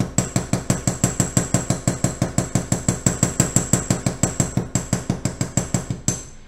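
A hammer strikes a metal stamped moon pendant about thirty times in quick, even succession. Each sharp metallic tap rings briefly at close range, and the blows are kept low and fast until they stop.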